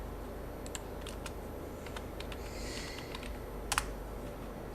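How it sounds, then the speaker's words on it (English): Keys clatter as someone types on a computer keyboard while writing an article in LaTeX on Overleaf, with soft irregular clicks and a few louder taps near the end over a steady background hum. "I am just typing the content."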